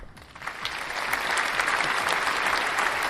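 Dense applause sound effect plays on a livestream, a steady wash of many clapping hands that swells after a brief start and holds loud and even throughout.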